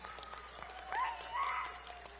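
Audience at a school science awards ceremony applauding the students' parents, a soft, fairly distant wash of clapping with a couple of brief cheers rising over it.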